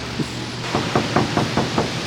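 Knuckles rapping on the hollow, lightweight door of a Dodge Demon 170 car, about six evenly spaced knocks with a dull, empty tone, close and clear over a low background hum.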